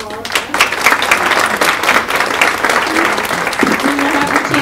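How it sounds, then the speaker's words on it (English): A warm round of applause at a women in business luncheon, loud sustained clapping from the room that runs steadily, with faint voices underneath. "Let's have a round, warm of applause for our"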